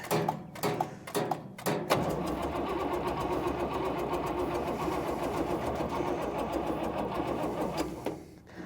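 A classic truck engine cranks on a weak battery: a few short, choppy turnover bursts, then a long, sluggish, labouring crank that drags on steadily before fading, close and loud without starting.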